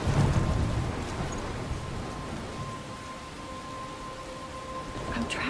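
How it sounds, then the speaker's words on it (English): Thunderstorm with heavy rain in the video game Life is Strange: a dense, steady roar of downpour with a low rumble of thunder at the start, continuous and loud throughout. "I'm trapped in a storm?"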